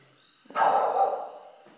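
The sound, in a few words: dogs barking at night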